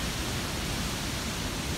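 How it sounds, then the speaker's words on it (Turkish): Large waterfall in Çamlıhemşin, Rize, roaring as a dense, even broadband rush that fills the whole moment at steady loudness, with no voices or other sounds over it. "Yalnız şelale bayağı büyük bir yaşıyor."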